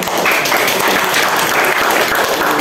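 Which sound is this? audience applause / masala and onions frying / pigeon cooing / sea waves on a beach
audience applause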